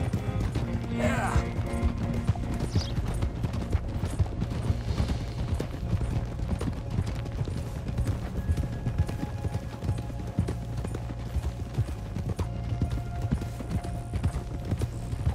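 Hooves of a thoroughbred horse clip-clop steadily in Red Dead Redemption 2, an even rhythmic stream of close hoofbeats that runs the whole time.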